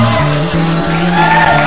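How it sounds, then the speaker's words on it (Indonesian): A loud studio audience on an Indonesian TV variety show cheers and shouts for guest Dela Perez, a dense, sustained crowd roar with whoops throughout. "Tepuk tepuk tangan dulu yang untuk Dela Perez dong"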